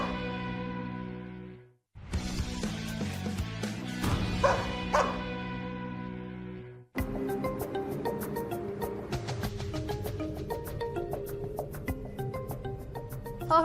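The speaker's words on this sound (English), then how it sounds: "I'm still concerned about the barking." Reactive pet dogs at a doggy daycare owner's home bark repeatedly in quick yapping bursts, loud and close, continuing almost without pause after a brief silence near the start.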